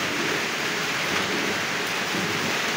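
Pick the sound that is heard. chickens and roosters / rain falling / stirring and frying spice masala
rain falling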